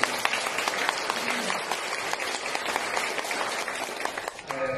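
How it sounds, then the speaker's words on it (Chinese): Lecture hall audience applauding to welcome a speaker to a university talk on international affairs, a steady, fairly distant patter of many hands clapping that continues evenly throughout. "请大家掌声欢迎"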